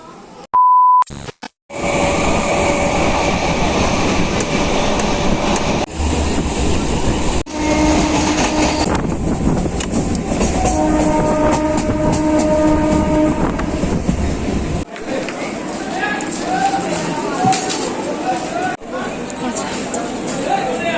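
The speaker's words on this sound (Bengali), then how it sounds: "আমি এখন শিয়ালদা স্টেশনে" A train rumbles through Sealdah railway station in Kolkata, with a brief beep, a loud horn blast and steady clattering wheels over rail joints, while platform crowd noise and voices go on throughout.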